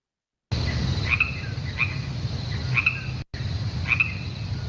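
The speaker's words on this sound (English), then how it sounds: "then you throw on the crickets" Crickets-chirping sound effect used to mark an awkward silence: steady chirps repeat over a constant low night-time hum, close and clear, with one brief dropout near the end.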